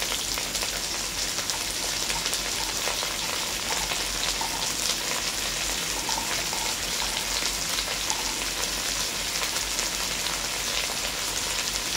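Carrots, capsicum and long beans stir-fry for street-style egg chow mein, with a loud, even sizzle that stays continuous and close throughout, like steady rain on a hot pan.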